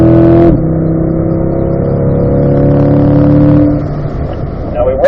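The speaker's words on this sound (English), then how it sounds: "you can go back to full throttle pretty quickly" A race car on track accelerates at full throttle, its engine a loud, close, steady harmonic drone that rises in pitch, with one gear change, then dips near the end under light background noise.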